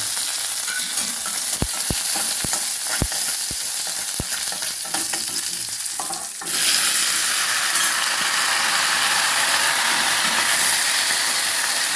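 Chillies and curry leaves fry in hot oil with mustard seeds and urad dal as a tempering for a Kerala colocasia-leaf thoran. A loud, continuous sizzle is broken early by sharp spoon taps, then swells into a steady, intense crackle.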